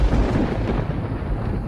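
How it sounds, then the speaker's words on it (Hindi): Cartoon thunder rumbling through a heavy storm, a deep continuous roll of low booms that stays loud and steady without fading, with no voices over it. "बाहर जोरों से बादल गरज रहे थे।"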